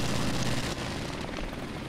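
A helicopter in Call of Duty Remastered multiplayer gives off a loud, dense, continuous rotor and engine roar, with no voices.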